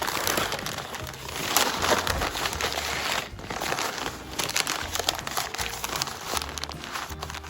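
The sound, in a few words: wrapping being folded around beef ribs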